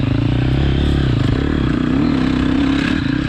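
A KTM 250 XC-F dirt bike engine revs hard and close, a loud, steady, buzzing drone with slight rises in pitch running throughout.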